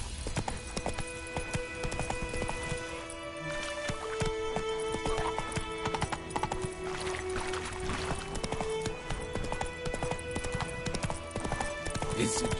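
In The Witcher 3, the horse Roach gallops with a fast, steady clip-clop of hooves, set against game music and ambient sound, with a voice briefly in the mix.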